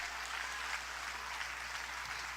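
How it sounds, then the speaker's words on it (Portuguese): A church congregation claps in worship, a dense, steady wash of applause from many hands at moderate distance, lasting throughout with no voice over it. "aplauda ao Senhor, adore a Ele da sua melhor maneira"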